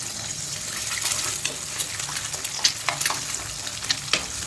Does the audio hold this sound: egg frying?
yes